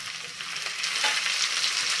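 Chopped tomatoes go into a pan of sautéed onions for paneer butter masala, giving a steady, close hiss of frying with soft stirring scrapes and no talk.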